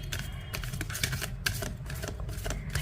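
Tarot cards being shuffled and drawn, a steady run of soft papery riffles and snaps at close range with no talking over them.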